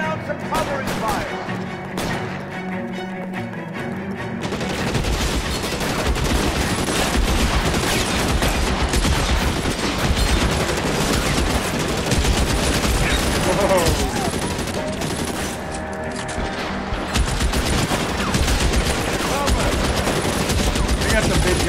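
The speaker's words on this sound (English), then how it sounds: "Lay down some covering fire." Covering gunfire erupts in L.A. Noire, a sustained loud volley of rapid automatic and pistol shots crackling continuously after a brief quieter start, with voices calling out over the shooting.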